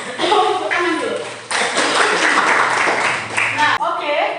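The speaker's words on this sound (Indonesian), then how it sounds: "Jadi, tepuk tangan dulu." A classroom group bursts into applause in the middle, a dense burst of hand clapping lasting about two seconds, with a voice talking before and after.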